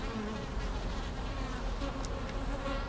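A dense, continuous buzz of many honeybees swarming close by, steady and loud throughout with no voices.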